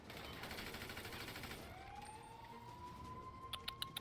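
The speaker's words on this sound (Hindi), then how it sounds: "सायरन बज गया" A rising siren wail in Grand Theft Auto V swells in behind a dense wash of noise and holds steady, with a few sharp pops at the end.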